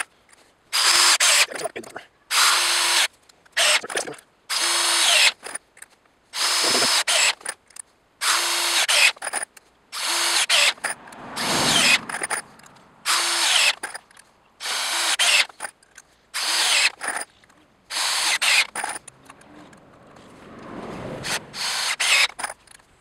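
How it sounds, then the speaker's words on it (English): Hitachi DV18DCL2 cordless driver drill motor running in repeated bursts of about a second each, starting and stopping rhythmically and close by, during a test on a block of hardwood. "I can feel really warm air coming from the vents when the motor is turning."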